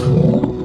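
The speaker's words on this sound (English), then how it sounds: "Bear roars and he rumbles." A short, loud, deep roar of a bear used as a sound effect during a children's story reading, a single close burst lasting under a second.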